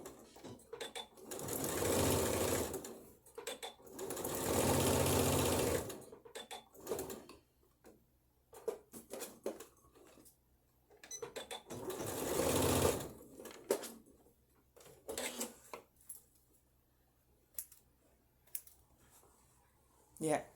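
Sewing machine runs close by in two bursts of roughly four seconds each, stitching a 5/8-inch seam on a bodice inset, with scattered clicks and handling noises in the quieter stretches between them.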